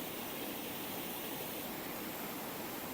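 A Peak District waterfall near Tintwistle pours in a steady, even rush of falling water, a constant broadband hiss with no pauses or voices.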